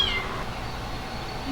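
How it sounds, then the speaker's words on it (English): A small cat meows outdoors on hot concrete in a workshop yard, a short high cry heard close over a steady low background hum. "he's a pretty little cat"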